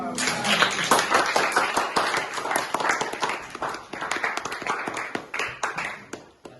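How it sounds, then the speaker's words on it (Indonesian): A high-school classroom audience applauds after a group presentation, a steady patter of many hands clapping close by that thins out and fades toward the end. "Berikan aplaus"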